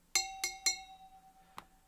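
An empty glass bottle is struck three times in quick succession, each a bright ringing clink that hangs on, then one softer, duller tap follows a moment later.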